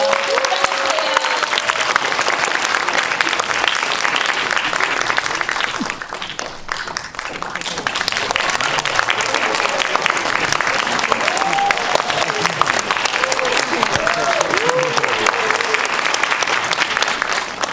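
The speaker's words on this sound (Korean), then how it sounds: "큰 박수로 맞이해주세요." A cinema audience applauds loudly to welcome a film's director and actors at a stage greeting for a Korean movie screening, sustained clapping with a brief dip midway, voices and cheers mixed in.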